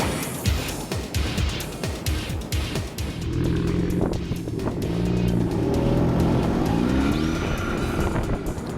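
Volkswagen Vento Cup race cars circle the track in formation. Engines rumble together and rise as they pass close by, with some tire noise, all loud and continuous, with no talk.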